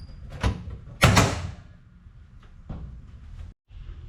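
A latch on a 2014 Chevy Silverado is lifted on both sides and opened, producing two sharp mechanical clunks close up followed by softer rattles and a brief knock.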